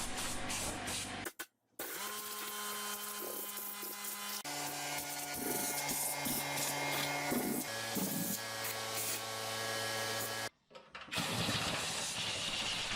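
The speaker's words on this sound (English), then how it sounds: "I'll take the compressor and blow out the back of this dryer" A compressed-air nozzle blasts loudly and continuously into the back of a clothes dryer, with a hissing rush broken by two short pauses and shifting tones as debris is blown out.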